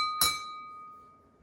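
One sharp tap on a drinking glass, followed by a clear, bright ring that slowly fades over more than a second, with no voices over it.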